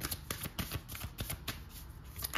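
Tarot cards are shuffled and drawn close up: quick, rhythmic riffling flicks and soft slaps repeating over a couple of seconds, with no talking.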